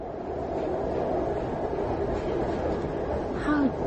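A London Underground train rumbling along, steady loud low roar with a brief squeal near the end, no clear speech.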